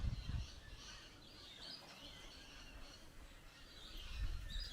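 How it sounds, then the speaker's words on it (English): Many birds call around a waterhole seen from a lookout, with faint scattered chirps and tweets over quiet outdoor ambience and occasional low wind bumps. "There's a lot of birds."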